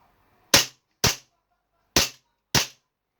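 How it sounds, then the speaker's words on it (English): A CO2 Remington 1911 air pistol fires four sharp, loud shots, two in quick succession, then a pause and two more, each a crisp pop with a short decay and no talking. "So we'll fire the gun a couple of times."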